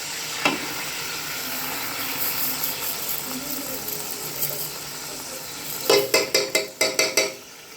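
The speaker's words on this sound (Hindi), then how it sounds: "अब जो है चीनी को थोड़ा सा हिलाएंगे और ताकि इसकी जो चाशनी है वो अच्छी तरह तैयार हो जाए।" Sugar being stirred into hot ghee in a pot for Pakistani zarda syrup, a steady close sizzle with faint scraping, ending in a quick run of sharp metallic clinks from the spoon against the pan.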